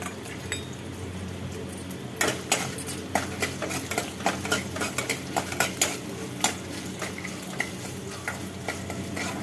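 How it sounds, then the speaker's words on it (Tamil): A spoon scrapes and clinks against a pan in a steady stirring rhythm as mustard seeds and dried red chillies dry-roast, with a faint dry sizzle beneath and no voices. "இதை ஃபர்ஸ்ட் நம்ம வறுத்துக்கலாம்."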